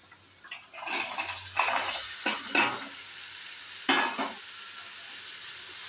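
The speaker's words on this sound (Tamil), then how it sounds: "நல்லா கிளறு கிளறி விடுங்க ஒரு ரெண்டு நிமிஷம் இல்லை ஒரு அஞ்சு நிமிஷம் அப்படியே வேக விடுங்க எண்ணெயிலேயே" Chopped vegetables being stirred into hot oil after tomatoes have softened, for sambar rice: a few bursts of scraping and clattering from the pan over a faint background sizzle, with brief pauses between strokes.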